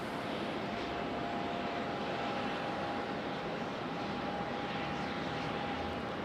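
An Aeromexico Connect airliner flares to land at Raleigh-Durham International Airport, its engines giving a continuous, even roar with a faint steady whine running through it.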